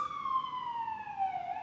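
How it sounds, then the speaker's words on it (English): A siren wails faintly in the distance, its tone sliding slowly downward in one long sweep. "Excuse the sirens in the background."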